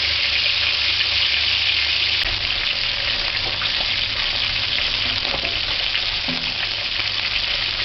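A fish fillet frying in hot oil for homemade fish and chips gives a loud, steady sizzle and crackle that fills the whole stretch without pause, close up and with no voices.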